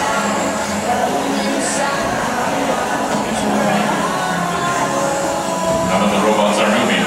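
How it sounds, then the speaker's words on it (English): Wheels of competition robots at a driving tournament give off a shrill, persistent screeching amid a noisy venue hum and crowd murmur, with a few higher squeals cutting through near the end. "We have some horrible screeching noise generated by the wheels."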